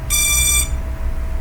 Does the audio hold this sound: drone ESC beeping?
yes